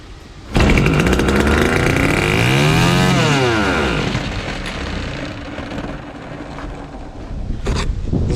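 A Fubag FPT 52 motor pump, run without its carburettor, bursts into life and runs with a loud, close, rough two-stroke-like roar that revs up and then settles to a slightly lower steady idle; no one talks.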